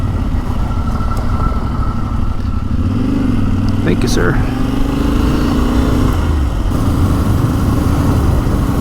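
A Yamaha Tenere dual sport motorcycle rides along backcountry roads toward Mt. Hood, its engine droning steadily and loudly up close with wind noise, while a rider speaks briefly over it.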